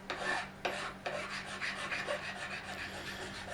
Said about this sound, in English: I'm going to finish up the shape with a file just to make it easier.